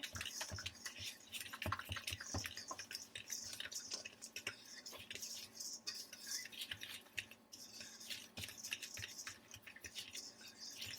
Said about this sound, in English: I'm going to use a fork just to mix this together